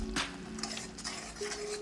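Chicken curry being stirred and sautéed in a pan, soft scraping of a spoon against metal with faint sizzling, quiet and close, a few brief clinks.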